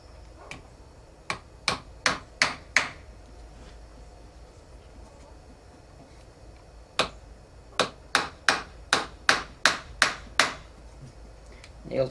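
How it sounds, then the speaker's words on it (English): Hammer taps drive finishing nails into a wooden block plane: two quick runs of sharp, evenly spaced blows, about six then nine, close and crisp against a quiet workshop. "I got a hammer somewhere around here"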